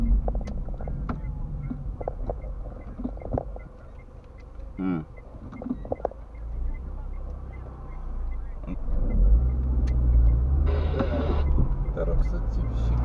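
A car drives along a street in Ploiești, Romania, heard from inside, with a low steady engine rumble and road noise that swells louder near the end, while people talk intermittently.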